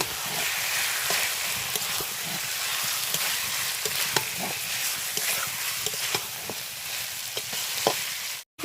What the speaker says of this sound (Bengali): এবার মাংসটা দিয়ে দিচ্ছি ধুয়ে রাখা এটাকে ভালোভাবে কষিয়ে নেব